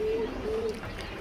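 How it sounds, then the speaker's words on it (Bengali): A pair of red khaki pigeons coo in two short, smooth low calls close by, with a brief pause between them over light room noise. "কবুতরের পেয়ারটা একটু দেখা"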